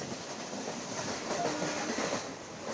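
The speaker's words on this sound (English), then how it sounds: "The train reaches Varanasi Junction on its way to Bokaro" Indian Railways Oxygen Express train rolling along the rails toward Varanasi Junction, a steady loud broadband rumble with a faint clickety-clack rhythm throughout, no voices.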